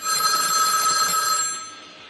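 A telephone bell rings loudly in a single sustained electronic trill, then fades away.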